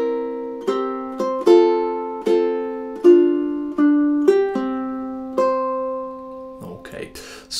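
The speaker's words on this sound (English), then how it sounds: "measure 7, 8, 9 and 10. They should sound like this" Measures 7 to 10 of March of the Toreadors on ukulele: a series of plucked chords ringing and decaying in a slow, even rhythm, close and clear, ending in a brief burst of noise.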